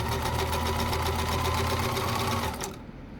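A Kenmore sewing machine runs a zigzag stitch with a fast, steady mechanical whir and rapid needle chatter, close up, then winds down and stops near the end.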